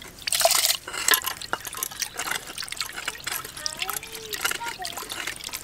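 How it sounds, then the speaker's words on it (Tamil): Hand-pounded rice swirled by hand in a vessel of water to settle out stones: soft sloshing, trickling and dripping splashes, close and intermittent, with someone speaking over it. "கையை வந்து இந்த மாதிரி ஒடுக்கி வச்சு அரிச்சா தான் உங்களுக்கு வந்து கல்லெல்லாம் கீழே தங்கும்"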